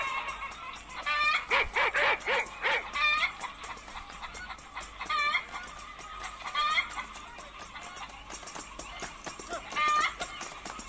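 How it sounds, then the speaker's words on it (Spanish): Chickens cluck and squawk in bursts within played music, the fowl calls loud and close over a busy backing, with people talking at points. "¿Por qué las gallinas?"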